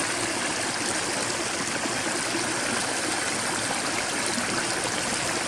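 Clear mountain stream flowing at a water source along a backpacking trail, a steady close rush and babble of water that stays constant and fairly loud with no pauses.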